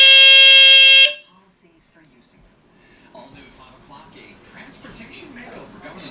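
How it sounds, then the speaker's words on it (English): A GE Home Century 8202-001 120-volt smoke alarm gives one loud, steady, piercing electronic tone for about a second, then cuts off, and quiet talking follows. "test here of my GE Home Century 8202-001 120 volt model."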